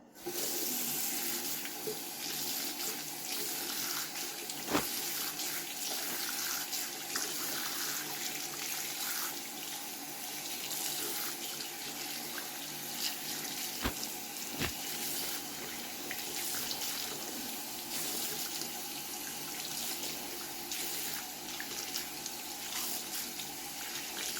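Tap water runs steadily over a G3 My Little Pony toy's hair to rinse out conditioner, a continuous close splashing stream with a couple of faint knocks and no talk.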